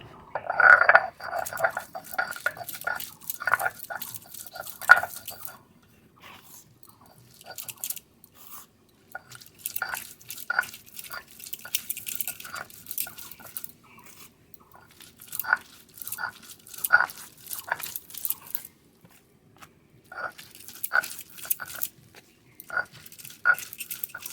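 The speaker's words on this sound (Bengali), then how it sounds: "ঘাটকলের পাতা ভাজা এবার বেটে নেবো" Fried ghatkol leaves being ground into a paste by hand in a home kitchen, giving repeated short scraping, crunching strokes in bursts with brief pauses, close and moderately loud, with no talking.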